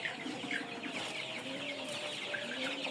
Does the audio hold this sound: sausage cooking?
no